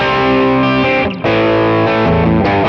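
Overdriven electric guitar run through tweed and normal amp models on a Quad Cortex, playing thick, warm sustained chords loudly with a brief dip near the middle before the next strummed phrase rings out.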